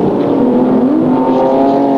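The new Quista race car charging along a wet, rainy track, its engine a loud, steady, close drone holding a sustained tone for the whole stretch.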